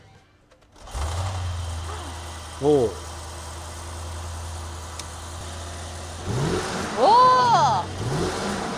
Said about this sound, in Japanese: ものすごい上質な V8 の音がしますね。